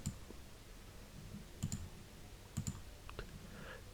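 Computer mouse clicks while working in a Microsoft Excel spreadsheet: two quick double-clicks, then a single click, all soft, close and crisp over a quiet background with no talking.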